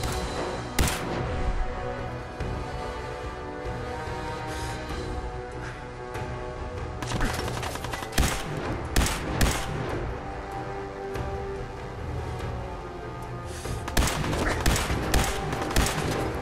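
Dense video game gunfire from Fallout 4, with rapid repeated shots and bursts exchanged throughout, loud and close, heaviest near the end, with faint talk underneath.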